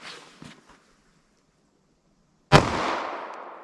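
A single sharp .45 ACP pistol shot from a 3.3 inch barrel firing a Black Hills semi-wadcutter round at an outdoor range, a loud crack with a decaying echo after a few faint clicks and near silence.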